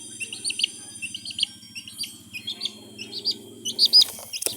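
A chick cheeps in a rapid series of short high chirps, close and clear, over a low steady hum, with no talking.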